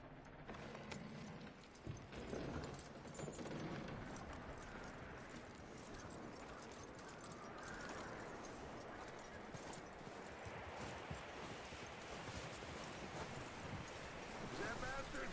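Horse hooves clip-clopping in the Red Dead Redemption video game, a steady rhythmic stream of hoofbeats with mechanical rattling mixed in, at moderate volume amid busy game ambience.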